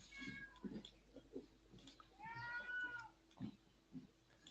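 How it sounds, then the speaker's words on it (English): A house cat meows repeatedly in the background of an online meeting, several drawn-out cries rising and falling, faint and distant through a participant's microphone. "Someone has a cat."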